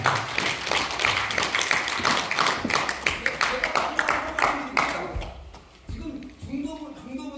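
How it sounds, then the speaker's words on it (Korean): Audience applause for Dr. Kim Young-sook at a public lecture on preserving the Jungdo archaeological site, with dense clapping over about five seconds before it fades and talking takes over. "우리 수고하신 김영숙 박사님께 박수로 응원해 주시기 바랍니다."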